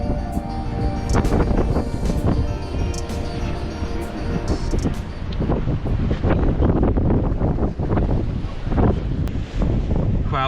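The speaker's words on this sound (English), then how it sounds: "The wind is pounding us in the face." Strong, freezing January wind buffets the microphone on a winter shore while anglers lure fish for bass, a loud, continuous roar with gusty bursts and no speech.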